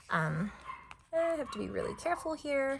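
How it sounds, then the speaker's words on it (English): Dogs indoors give high whimpers and yips, with short tonal whines scattered through, while someone speaks over them nearby. "sorry about my dogs"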